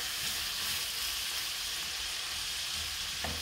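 Octopus fries in a little oil in a pan, giving a steady, close sizzle and crackle throughout with faint stirring clicks and no talk.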